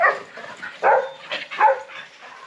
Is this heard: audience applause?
no